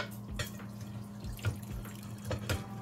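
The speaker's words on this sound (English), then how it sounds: "And remember to pour the water off." Cooking water is poured off boiled macaroni into a sink, a steady splashing rush with a low hum beneath and a few sharper spattering bursts, close by and heard alone without talk.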